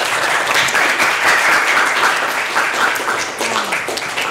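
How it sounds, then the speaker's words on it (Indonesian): Students in a classroom clapping together, a dense burst of applause sustained throughout at close range with no pauses. "Tepuk tangan untuk kalian dulu."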